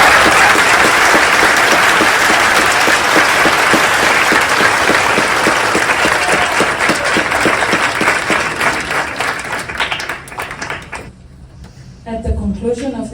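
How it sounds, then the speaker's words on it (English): An audience in Miami's Bill Cosford Cinema applauds the conductor at a concert. The clapping is loud, dense and sustained for about eleven seconds, then drops away, and a short, quieter burst of sound follows. "I would like all of us to give a round of applause"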